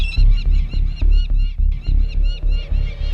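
A peregrine falcon gives a rapid series of sharp, harsh repeated calls over Eocheongdo, a remote windy island in Korea's west sea, with the cries fairly close and loud above a steady low rumble of sea wind.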